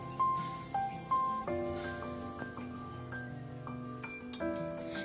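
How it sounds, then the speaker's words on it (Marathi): Stuffed green chillies fry in a pan with a soft, dripping patter of sizzling oil, quiet and close, sitting beneath a louder melodic tune with steady sustained notes throughout. "आता दुसऱ्या बाजूनं पण याला आपण 2-3 मिनिट फ्राय करून घेऊ."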